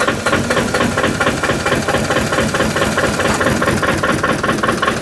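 A small MEP-803A generator engine, running rough and failing as if low on oil, chugs loudly and unevenly close by, its rhythmic knocking pulses stuttering and sputtering as though struggling to keep running.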